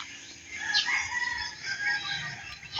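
A rooster crows among a flock of all-black chickens in a rural Philippine yard, the long call fairly distant over steady bird chatter and outdoor background noise.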